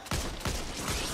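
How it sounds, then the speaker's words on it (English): Gunfire from a weapon in the co-op shooter game Back 4 Blood, a few loud rapid shots in quick succession over a dense, noisy game background. "I shot the one behind the guy I was aiming for"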